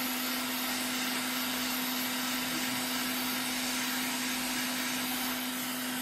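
A heat gun blows hot air steadily onto a PlayStation 5 circuit board during a no-power repair, a loud continuous whooshing roar with a constant motor hum running unbroken throughout.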